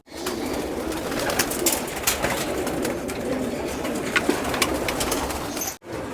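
Young pigeons from a loft aviary coo softly and steadily, with occasional brief wing flutters, amid a continuous low murmur of many birds close by.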